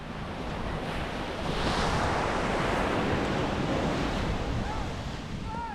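Sea surf rolls in at a Puerto Galera beach, a broad wash of waves swelling to a loud crest midway and then easing, with wind buffeting the microphone and no speech.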